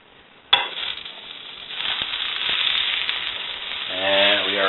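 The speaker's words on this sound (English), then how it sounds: "add a little more butter to this pan" Butter sizzles and crackles steadily in a frying pan, beginning with a sudden burst as it hits the hot surface and holding a close, continuous hiss, with a voice speaking near the end.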